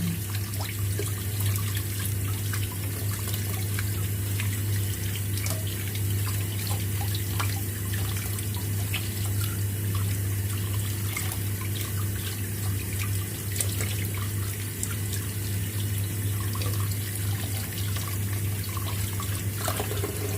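Bamboo clams washed under running tap water in a sink, a steady close stream of water with small splashes and clinks throughout, alone without talk.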